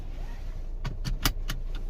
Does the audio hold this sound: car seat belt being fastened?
yes